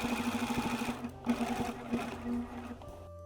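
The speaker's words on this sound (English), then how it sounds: "Sew the bias tape with right sides together at 1/4 inch." A sewing machine stitches bias tape onto jacket pockets at a quarter-inch seam, running in quick rhythmic bursts of needle thumps with short pauses between runs, close and clear.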